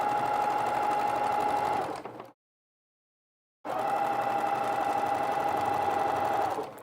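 A sewing machine quilts a kids' apron in two steady, close runs of fast mechanical stitching, with a brief pause of silence between them.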